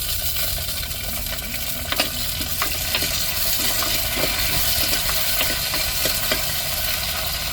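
Curry leaves crackle and fry in hot oil for tempering, a fish curry base, with a steady close sizzle and scattered sharp pops and stirring clicks throughout.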